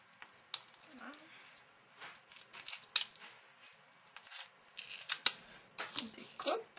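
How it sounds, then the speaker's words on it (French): Scissors snipping off excess material and surplus glue around an alteration piece, a run of short, close, crisp cuts with brief pauses between bursts, no talking over them. "on vient vraiment aller découper le surplus"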